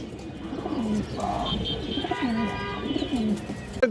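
A large female Chuina pigeon gives soft, repeated throaty coos, three or four low rolling calls close by over faint background noise.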